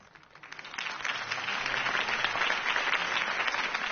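Steady applause from a large crowd builds quickly and holds at a full, even roar of clapping throughout.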